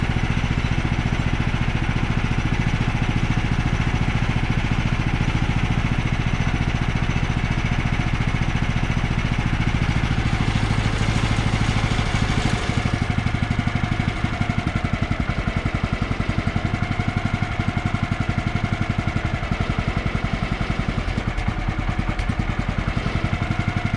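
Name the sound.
sawmill engine idling as idle speed is turned down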